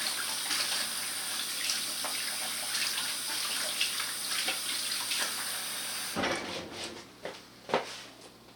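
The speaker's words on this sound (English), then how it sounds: "And then quickly wash your hands." Hands washed under a running tap in a home kitchen while baking cookies, a steady close hiss of flowing water with splashes, turning into irregular drips and splatters once the flow stops.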